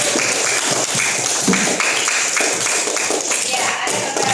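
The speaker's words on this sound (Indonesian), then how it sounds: "mari kita beri apresiasi dengan tepuk tangan yang lebih keras" Classroom audience claps for group representatives in a teacher training session, a close, uneven patter of many hands with individual claps standing out and some murmured voices underneath.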